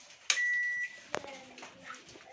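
A microwave oven being switched on gives a single steady electronic beep of about half a second, followed by a sharp click and a faint hum, close by and with no talking.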